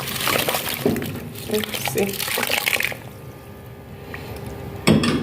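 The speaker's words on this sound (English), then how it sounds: "to this pot of water we'll be adding our sorrel" Fresh sorrel dropped into a pot of water for Jamaican sorrel and ribena juice, giving a run of splashing and watery pouring sounds under a voice that fades to near quiet.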